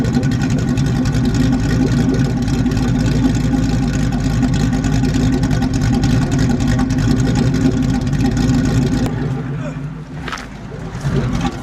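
A car engine with an aftermarket cam rumbles loudly and steadily at close range through the exhaust, with a throaty, choppy idle, then briefly drops off before picking up again.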